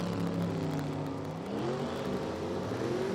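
Engines of a 1979 Chevrolet Malibu and a Camaro drag racing hum in a steady, loud drone whose pitch sags and then climbs as they rev, with no voices.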